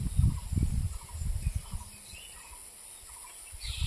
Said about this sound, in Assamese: আৰু চৰাইবোৰে কি ধুনীয়াকে মাত দি আছে চাওকচোন।